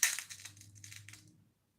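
A few beads drop into a mixture with a short, close burst of crunching and clicking that trails off into quiet within about a second and a half.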